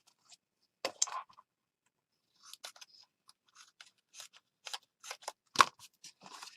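Scissors snip through paper for a scrappy junk journal, a series of crisp, close cuts in irregular bursts with quiet pauses between, no talking.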